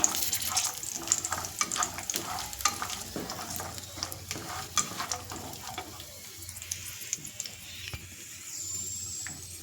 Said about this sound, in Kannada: ದ್ರಾಕ್ಷಿಯನ್ನು ಕೂಡ ಹಾಕಿ ನಾನು ಅದನ್ನು ಕೂಡ ಚೆನ್ನಾಗಿ ತುಪ್ಪದಲ್ಲಿ ಹುರ್ಕೊಳ್ತಾ ಇದ್ದೀನಿ